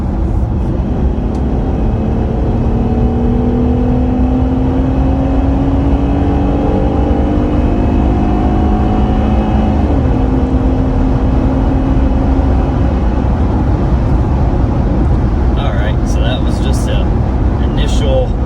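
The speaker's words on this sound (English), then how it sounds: "pedal to the floor acceleration, getting on the on-ramp onto the highway here" Jeep Gladiator with its stock air intake accelerating hard onto a highway on-ramp, a loud, steady engine drone rising in pitch heard from inside the cab, with a voice talking over it.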